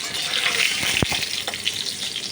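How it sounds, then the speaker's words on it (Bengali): Oil hisses and sizzles steadily around pointed gourds frying in a pan over low heat, with a couple of brief knocks of a utensil, close by. "আমি পটল পটলগুলো দিয়ে দিলাম আঁচটা কমিয়ে রাখবো ধীরে ধীরে চারিদিকে ভাজা হতে থাকবে"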